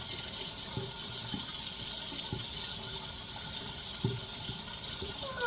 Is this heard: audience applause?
no